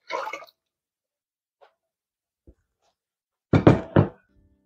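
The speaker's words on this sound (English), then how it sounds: "We close the lid." A pot lid is closed over a pot holding hot water for raw-packed pork butt, giving a few sharp knocks and a clattering thunk in near silence, with faint taps before.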